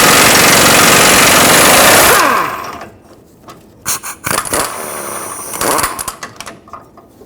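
An impact gun with a 27mm socket hammers loose the lower control arm bolt on a 2003-2012 Chevrolet Colorado, a loud rapid rattling burst of about two seconds, then clanks and scrapes of the socket and bolt.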